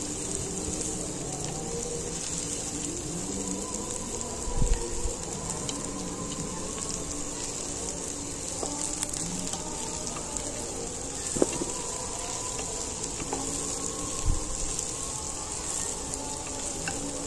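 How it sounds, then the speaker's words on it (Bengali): Mixed vegetables fry in a pan with a steady, moderate sizzle for fried rice, broken now and then by a few soft knocks and stirring clatters, with no voice over it. "এবার দেখুন, এই সবজিগুলোকে খুব ভালো করে ভেজে নেব।"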